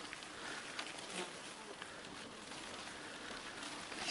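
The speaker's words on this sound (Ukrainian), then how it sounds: "Комарі кусаються." Mosquitoes and other insects buzzing faintly and steadily in a forest during an e-bike ride, a thin continuous whine over soft outdoor background noise.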